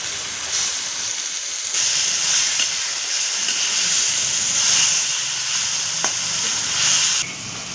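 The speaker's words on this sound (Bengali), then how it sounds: "পেঁয়াজটা অর্ধেক ভাজা হয়ে গেছে, এবার আমি রসুনটা দিয়ে ভেজে নেব।" Garlic sizzles steadily in hot oil with half-fried onions, part of cooking a Bengali prawn and pointed gourd dish. The bright, even frying hiss runs close and constant, with a faint stir or scrape partway through and no talking.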